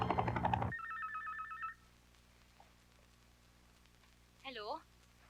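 A cellphone rings with a bright, repeating electronic ringtone that stops after about a second. A quiet lull follows, then a short rising-and-falling warble. Loud voices or music sit underneath at the very start.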